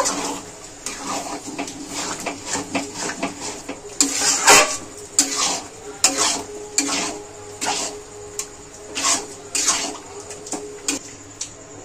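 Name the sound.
stirring boiled tarka lentils into masala in pot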